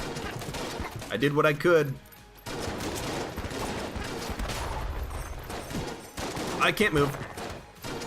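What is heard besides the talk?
Void Shotgun firing in the video game Enter the Gungeon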